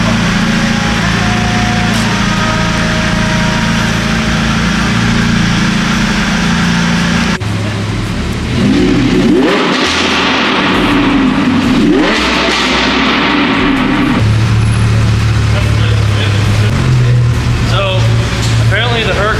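A loud modified sports car engine with downpipes, an aftermarket exhaust and a stage 2 tune idles and then revs hard several times, roaring close by with voices under the engine noise.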